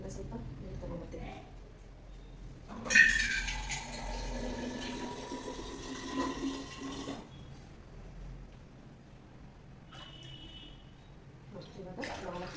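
Water is fetched and poured into a pot in a home kitchen while making toor dal holige, a short splashing fill followed by a trickle, with someone talking over it.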